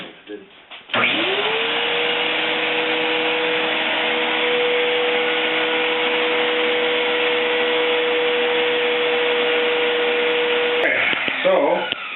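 Shop vacs running through a compact double cyclone separator, sucking up dust: a loud motor roar spins up, holds a steady tonal drone for about ten seconds, then cuts off and winds down.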